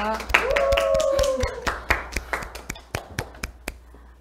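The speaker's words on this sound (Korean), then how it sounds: "그럼 큰 박수로 교수님을 모셔보도록 하겠습니다" Lecture-hall audience clapping to welcome a medical professor, with a voice speaking over the start before sparse, individual claps carry on and thin out.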